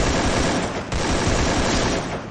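Dense burst of rapid gunfire in the BNL shooting game, loud and continuous with a brief dip midway, no talk.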